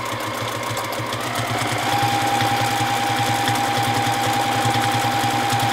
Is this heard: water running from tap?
no